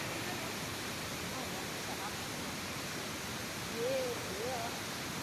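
Steady, broad roar of Niagara Falls heard from the New York side, a constant wash of falling water with faint birdlike whistles over it.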